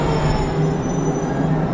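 A passenger train in Japan rumbles steadily from inside the carriage, with a continuous low roar of wheels on track and a faint high whine above it, loud and unbroken with no voices.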